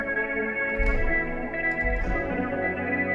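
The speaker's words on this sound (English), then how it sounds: "I'm gonna be using this instrument called Autumn Haze." Autumn Haze, a stock synth instrument in an RnB beat setup, plays a sustained, hazy pad with soft low pulses, steady and close, with no voices.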